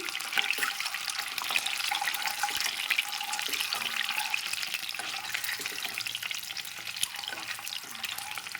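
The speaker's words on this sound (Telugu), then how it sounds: "ఎగ్ ఏ విధంగా నూనెలో వేసుకోవాలండి వేసి అన్ని వైపులు వేగితే టేస్ట్ బాగుంటుంది" Eggs fry in hot oil in a pan for a tomato and drumstick egg curry, a steady close sizzle and crackle with occasional stirring scrapes, and no talking.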